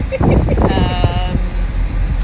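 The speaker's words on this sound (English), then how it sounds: "And it is windy, as you can hear. It's super windy." Strong wind buffets the microphone on an observation deck during a road trip on the Isle of Man, a low rumbling roar under a person talking.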